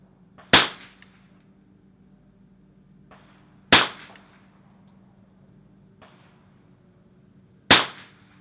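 Three sharp, loud .22 rifle shots ring out a few seconds apart during test firing on a shooting range, each a crisp crack with a short ringing decay and faint softer impacts between.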